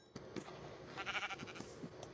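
A sheep in Minecraft Skyblock gives a couple of wavering bleats, the louder one near the middle, over faint game ambience and a few soft clicks, with no speech.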